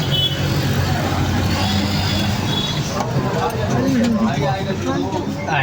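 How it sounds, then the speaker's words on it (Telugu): Busy street in Kashi during a traffic jam, with a continuous rumble of cars and other vehicles close by under people talking. "కాశీలో ఖచ్చితంగా ట్రాఫిక్ జామ్."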